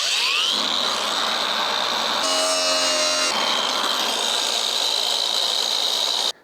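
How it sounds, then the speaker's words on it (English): A power tool cuts through the rusty floor panel metal of a Citroen XM V6 24V with a loud, continuous, harsh grinding roar. Its pitch shifts briefly partway through, and it stops abruptly at the end. "So I'm going to cut this down like this and weld in a new piece."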